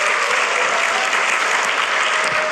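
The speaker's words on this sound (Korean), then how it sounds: "우리 힘내라고 박수 한번 쳐줍시다." A church congregation at a Korean university worship service gives loud, continuous applause, a thick, even roar of many hands clapping close by and held steady the whole time with no voices.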